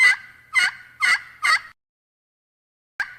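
Turkey pot call worked with a peg, giving four sharp yelps in a steady rhythm, each a high front note sliding into a raspy tail, then a pause and one short final note; close and loud, no talking.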